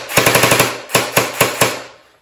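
A SplatRBall SRB1200 toy gel blaster fires loud, close bursts: a rapid string of about seven shots, a short pause, then four slower single shots, with no talking.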